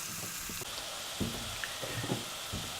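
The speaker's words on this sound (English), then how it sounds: "Just into the hot oil and just a couple of minutes just to turn the onions translucent." Garlic and onions frying in hot oil give a steady, close sizzling hiss with scattered soft pops and crackles, with no voices over it.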